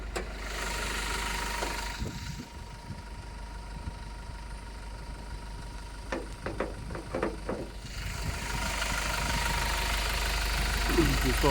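A 2018 Toyota Innova Crysta Z idles with a low, steady engine hum. A few clicks and rustles break in midway, and the hum is louder again by the end.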